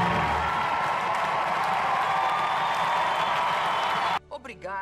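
Crowd applause and cheering in a Kogama game session, a dense steady wash of clapping that runs loud for about four seconds, then cuts to a short burst of talking at the end.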